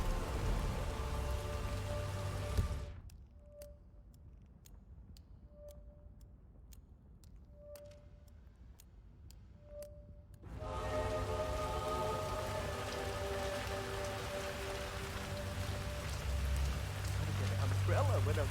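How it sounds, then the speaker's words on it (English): Rain pours steadily in a China level of the Hitman 3 game, a loud dense hiss that drops out for several seconds while soft ticking and short tones play, then returns at full strength. "I'm never going out in the rain again."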